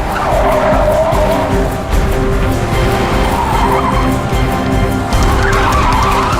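A car driven by a drunk driver skids hard with a loud, continuous tire screech and roaring engine, close and sustained throughout with no talk.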